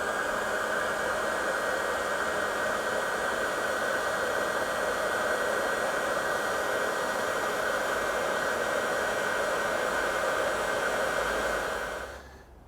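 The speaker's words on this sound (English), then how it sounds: "I'm just going to heat up the pulley to make it easier to slip over the shaft" A heat gun blowing steadily on a motorcycle cam belt pulley, a constant loud whooshing fan roar with a high whine that holds for about twelve seconds and then winds down at the end.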